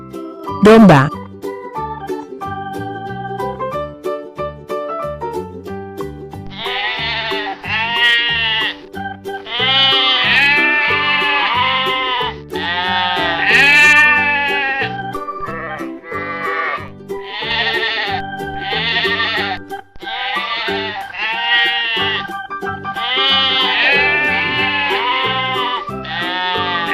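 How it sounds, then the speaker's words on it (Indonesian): Sheep bleat in a series of loud, wavering calls, several overlapping, over a continuous musical backing. "Domba."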